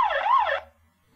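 Police car siren from a children's music game app: a single loud, close electronic wail that rises and falls once and cuts off after about half a second, leaving silence.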